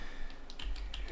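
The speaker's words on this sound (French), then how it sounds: "avec mes flèches du clavier" Faint, quick clicks of computer keyboard arrow keys being tapped in a short run at low volume, with no one speaking.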